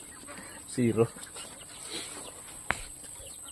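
Shamo game chickens in a coop nest give one short, close clucking burst, followed by quiet background and a single sharp click.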